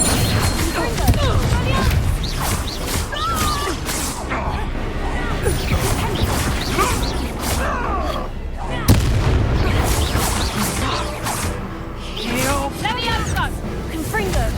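Spell blasts in the Hogwarts Legacy video game, Confringo and Incendio, rendered as a loud, continuous barrage of booms, crashes and whooshing impacts mixed with shouted combat voices and game music throughout.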